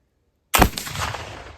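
A single loud gunshot fired with homemade DIY black powder cracks out of silence, then a rumbling boom and echo trail off over the next second.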